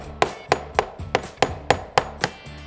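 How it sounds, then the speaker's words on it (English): A hammer drives a five-way tool into the paint-stuck sash line of a historic window, giving nine sharp, evenly spaced close strikes about every third of a second with no talking. "The other thing we can do is just take a hammer and just drive it into that line."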